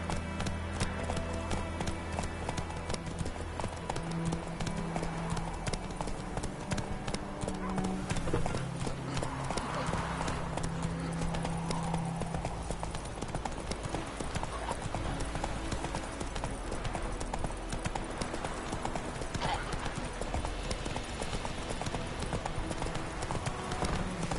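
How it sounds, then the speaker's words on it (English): A horse trots in The Witcher game, hooves clip-clopping in a steady rhythm throughout, with occasional talk over the hoofbeats. "Whoa there, Roach."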